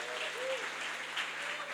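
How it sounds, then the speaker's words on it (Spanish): A church congregation claps for their pastor. The applause is soft and steady, with a faint voice rising briefly above it. "denle un aplauso al pastor Cris."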